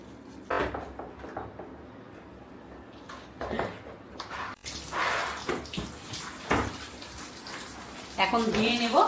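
Water splashes and trickles while rinsing shampoo off a Shih Tzu puppy during a bath, intermittent pouring and dripping near the microphone with a heavier gush at the end, with someone talking.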